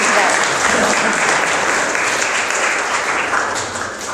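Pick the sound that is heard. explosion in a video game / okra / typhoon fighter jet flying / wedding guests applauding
wedding guests applauding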